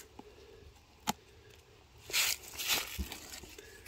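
Dry, frost-damaged strawberry leaves are pinched off by hand in a garden bed, giving a few brief crunchy, crackling snaps up close, the loudest bursts coming in quick succession after a soft tap.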